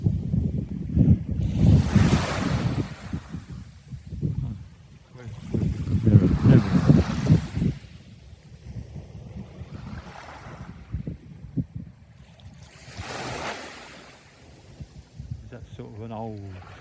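Sea waves break on Bournemouth beach in three big rolling surges, each a loud rush of surf that swells and then fades. Wind buffets the microphone throughout, and a voice is briefly heard.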